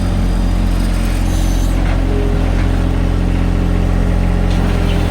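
A John Deere 1025R or Kubota BX23S compact tractor engine holds 1800 RPM, giving a loud, constant, close mechanical drone with no pause.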